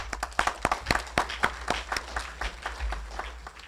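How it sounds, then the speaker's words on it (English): Conference attendees at an opening session applaud the sponsors, a modest scattering of distinct claps from a smallish crowd, crisp and somewhat sparse, fading toward the end. "A big round of applause for them."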